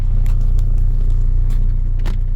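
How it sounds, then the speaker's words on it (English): Car engine idling with a newly installed ClutchXperts pressure plate, a steady low rhythmic rumble with a faint regular pulse, close and continuous, with a few brief clicks and knocks over it. "Right now the car is currently on"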